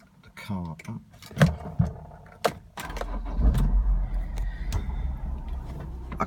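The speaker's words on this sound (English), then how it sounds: "Okay, so let's start the car up." A Honda S2000 roadster is started: key jingles and clicks first, then the engine catches and settles into a steady low idle, with a person speaking briefly over it.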